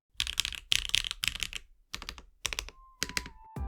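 Akko Cilantro mechanical keyboard switches give bold, clacky keystrokes in quick bursts of typing, crisp and close, separated by short pauses, with no talking.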